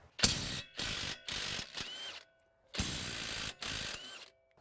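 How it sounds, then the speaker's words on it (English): A hand ratchet works a 19 mm strut bolt on a 2005-2009 Subaru Legacy front suspension, giving crisp clicking runs in four or five separate bursts with short pauses between, close up and with no voices. "Ratchet stuck."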